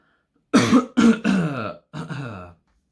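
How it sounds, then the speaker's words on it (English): A few harsh coughs come in quick bursts, close up, with short pauses between them and quiet before and after. "I'm coughing because I'm talking a lot."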